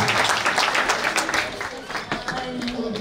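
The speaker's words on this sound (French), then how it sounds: "Acclame très fort Jésus-Christ" Dense crowd applause with scattered cheering at a French-language Christian worship gathering, steady and loud throughout, with a few voices rising over the clapping.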